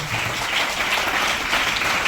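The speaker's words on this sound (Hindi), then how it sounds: "डॉल्फिन के लिए जोरदार तालियां" Loud, dense applause from an audience at an event, a continuous wash of clapping with no pauses, filling the space close around.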